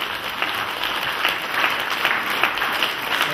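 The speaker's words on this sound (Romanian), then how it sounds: "Haideți aplauze încă o dată" A village cultural event audience claps continuously for veterans, the applause steady and moderately loud with faint uneven peaks and no voices standing out.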